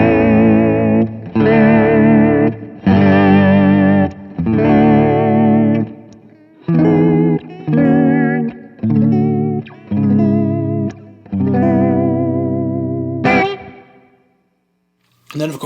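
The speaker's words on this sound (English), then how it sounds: "Alright, now we're going to be using our vibrato." Electric guitar run through a vibrato effect on a budget pedalboard, playing a series of sustained, wavering chords and notes in short phrases, loud and alone with no talking, ending in a brief pause.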